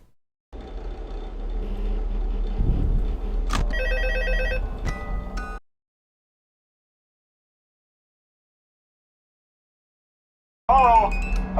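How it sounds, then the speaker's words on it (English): Phone ringing in the video game Five Nights at Freddy's 2, a loud electronic ring with busy game sounds that stops abruptly, then silence before a brief burst of sound returns at the end. "I'll let you listen to the phone call."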